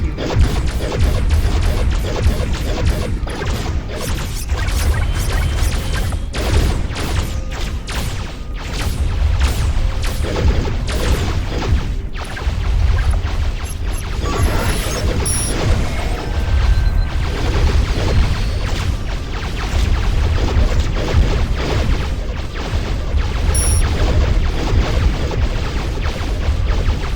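Weapons fire and explosions ring out during a carrier battle in the space combat game Starpoint Gemini 2, a dense, continuous barrage of loud booms, crashes and impacts with no letup across the whole stretch.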